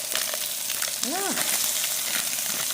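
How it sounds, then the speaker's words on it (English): Chorizo fries in its own rendered fat, a steady close, loud sizzle and crackle throughout, with a brief short voiced sound in the middle. "So the chorizo has a lot of rendered fat, so I didn't add any oil."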